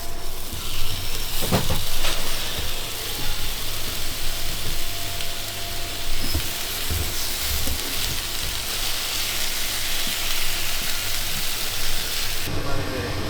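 Sausages, including Danish red sausages, fry in a pan at a sausage stand with a steady sizzling hiss and scattered pops, close and fairly loud, with some clattering and brief voices.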